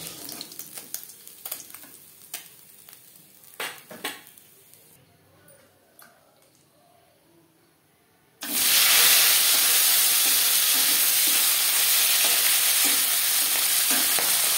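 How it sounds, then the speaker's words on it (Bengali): Bele fish fry in oil in a wok: quieter clinks and soft sizzling give way to a sudden loud, dense crackling hiss as the next piece enters the hot oil, then a sustained close frying roar. "পরের মাছ একইভাবে ভেজে নেব"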